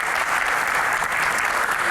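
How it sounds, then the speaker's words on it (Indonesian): A studio audience at an Indonesian talk show claps loudly and steadily, a dense, even wash of applause lasting the whole moment with no break. "Tepuk tangan ya."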